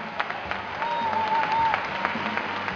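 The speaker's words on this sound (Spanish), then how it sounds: "Aplauso fuerte para ellos." Steady applause from a crowd fills the room, moderate and continuous, with a faint whistle rising above the clapping midway.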